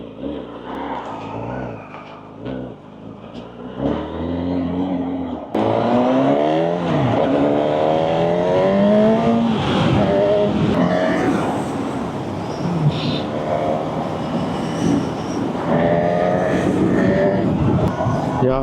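A Honda CB1000 Hornet naked motorcycle's engine and exhaust while riding, loud and continuous, with rising and falling revs and gear changes on a bumpy, dusty road.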